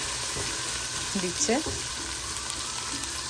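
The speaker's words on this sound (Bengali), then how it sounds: "পেঁয়াজ আদা রসুন ভালো করে কষিয়ে নিচ্ছে" Onion, ginger and garlic paste sauté in a pan for chicken bharta, with a constant close sizzling hiss. A short voice briefly rises over it near the middle.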